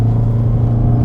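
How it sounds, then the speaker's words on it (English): In a 2023 Toyota Corolla Cross 1.8 hybrid merging onto a highway, the gas engine runs as a steady low cabin drone and rumble, loud and continuous for about a second with no talk. "the gas engine actually kicked in"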